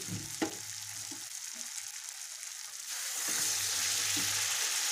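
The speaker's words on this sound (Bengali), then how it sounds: "এখন দিয়ে দিচ্ছি চিকেন।" Chicken pieces dropped into hot oil with cooked-down spices and turmeric, with a quiet sizzle that swells into a loud, steady fry halfway through. No one speaks.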